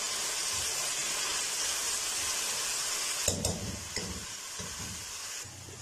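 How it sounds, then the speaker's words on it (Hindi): Sliced onion sizzling in oil in a pan while cooking arbi masala, with a steady close frying hiss throughout and a few louder stirring scrapes and bursts partway through. "और इसको हल्का गोल्डन होने तक जो फ्राई करेंगे।"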